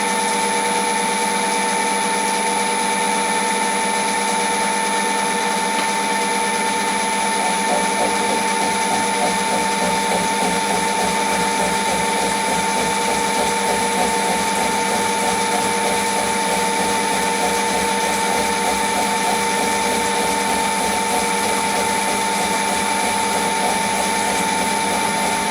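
A metalworking machine tool turns at about 360 RPM while cutting a bevel gear, a loud continuous mechanical hum and whine with a faint rhythmic chatter, steady for the whole stretch.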